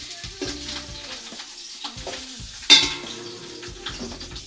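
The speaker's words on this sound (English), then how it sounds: "Like I said, just get a nice little sear on it." Smoked turkey sears in a hot pan with a low, steady sizzle, while a utensil stirs and scrapes intermittently and metal clinks once sharply.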